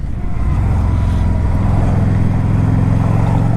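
A 2012 fuel-injected Honda Shadow 750 motorcycle running on a test ride, a loud, steady low engine drone with continuous rumble and wind, no speech.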